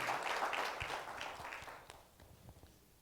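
Applause from a conference audience rises at the start and fades away over about two seconds, leaving a few scattered claps near the end.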